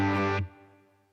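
Electric guitar chord with a touch of reverb, a bright strummed attack cut short after a fraction of a second, then a soft reverberant tail and low sustained note fading out alone.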